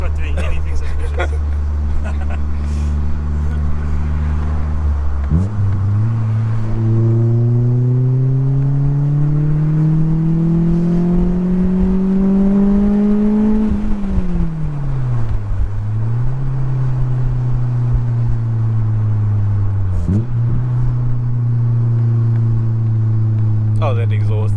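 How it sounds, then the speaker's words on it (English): The loud exhaust of a tuned 1.8T Polo GTI booms close by as the engine revs up steadily, drops briefly, then climbs again. Voices talk over it. "that exhaust is loud"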